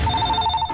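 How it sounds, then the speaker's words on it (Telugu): A telephone rings with a steady electronic bell tone, loud and close, filling the short moment on its own with no talk over it. "అయ్యో, ఫోన్ మోగేసింది."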